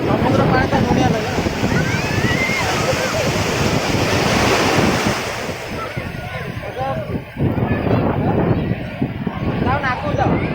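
Ocean waves wash steadily onto a sea shore in a loud, continuous roar, with wind buffeting the microphone and voices talking over the surf.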